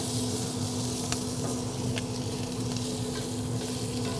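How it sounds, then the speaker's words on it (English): Bacon sizzles steadily in a hot skillet, a dense crackling hiss with small pops, close and continuous throughout. "You can hear the bacon sizzling away."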